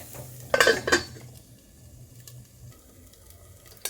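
A lid goes onto a cooking pot of sweet potato leaves, making two quick metallic clanks close together, followed by a quiet low hum and faint simmering.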